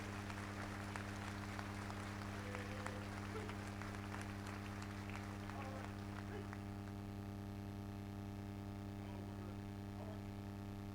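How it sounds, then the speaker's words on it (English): Scattered crowd applause for the Palm Beach County Sheriff's Office Honor Guard, faint and fading out over steady electrical hum. "a round of applause for the Palm Beach County Sheriff's Office Honor Guard"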